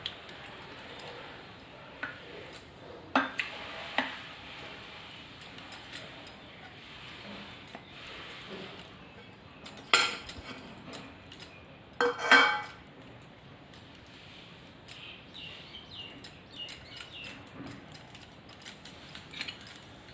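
A spoon clicks and scrapes in a bowl while tomato is mixed with a few drops of mustard oil, scattered soft taps and clinks with a couple of louder knocks, quiet and close.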